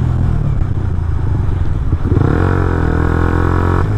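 A motorcycle engine runs steadily in UK traffic, its rumble rising in pitch partway through as it revs and pulls away nearby into motorcycle parking.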